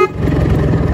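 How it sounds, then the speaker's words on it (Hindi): A single loud, sustained train-style horn blast from a 30-year-old Bajaj Chetak scooter, close and brassy, sounding briefly and alone. "भाई एकदम ट्रेन हॉर्न है सेक्सी वाला।"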